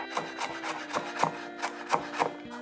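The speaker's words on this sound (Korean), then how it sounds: "마늘은 너무 잘게 다지지 않고요, 식감이 있게 이렇게 썰어주시면 됩니다." A knife slicing garlic cloves on a wooden cutting board into coarse pieces, producing soft, close rhythmic chopping taps about twice a second, quiet and with no talking.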